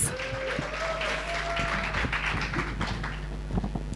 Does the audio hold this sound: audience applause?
yes